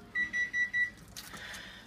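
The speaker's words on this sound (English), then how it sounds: "My timer's going off" A kitchen timer alarm sounds four short, loud, evenly spaced electronic beeps while spaghetti squash bakes in the oven, then stops and low room noise follows.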